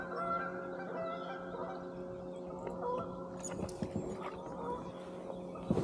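Geese honk at a kayak on muddy Lake Murray, the calls moderately faint and intermittent against a steady low hum, growing busier toward the end.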